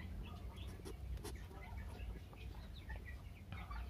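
Bangkok chickens cluck and call in their coop, several birds overlapping in a steady, busy chorus over constant low farmyard background noise.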